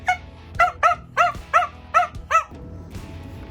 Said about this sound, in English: I gotta live with this barking dog all the time